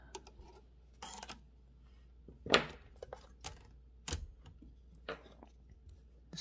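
A Torpedo 18B typewriter's loose carriage rattling, with a few separate clattering bursts, sharp and close, alone with no talk.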